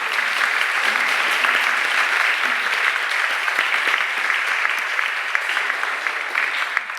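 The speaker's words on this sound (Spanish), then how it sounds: "y le pido un aplauso" An audience at a university conversation event on feminism breaks into sustained applause, dense even clapping filling the room without pause.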